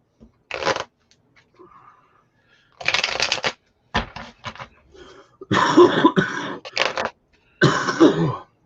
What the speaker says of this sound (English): Let me get 2 more shuffles in.